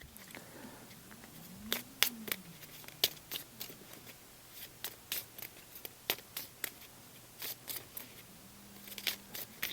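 A deck of Legendary Encounters: Alien board game cards gets shuffled by hand, producing a series of close, sharp card snaps and riffles in irregular bursts against a quiet background, with no talking.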